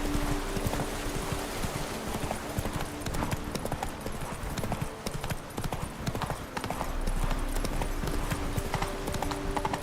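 Roach the horse gallops in The Witcher 3: Wild Hunt, a fast continuous clip-clop of hooves with a brief whinny, steady and prominent over game ambience.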